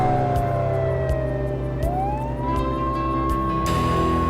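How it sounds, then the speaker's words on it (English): A police car siren in the Police Simulator video game shifts its wail partway through, sliding up into a new steady tone, loud and continuous over engine hum with no talk. "that change of siren tone indicates that you've initiated the stop."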